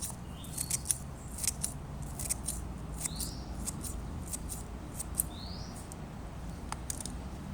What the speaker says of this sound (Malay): aku akan potong pendek-pendek guna gunting ni